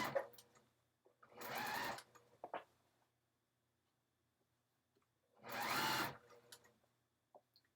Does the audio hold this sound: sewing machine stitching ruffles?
yes